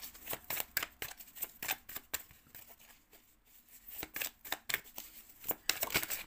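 Tarot cards being shuffled and drawn up close, quiet rapid riffling flutters in short bursts with a brief pause in the middle.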